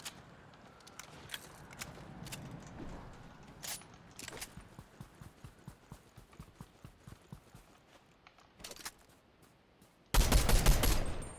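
Rapid clicks and footstep-like patter fill a shooter video game match, followed near the end by a loud, dense burst of gunfire, likely from a prime shotgun, that ends the clip.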